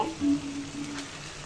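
Beef pieces drop into hot oil and spices for a Bangladeshi shahi beef rezala, giving a sharp sizzle and frying hiss that settles into a quieter crackle.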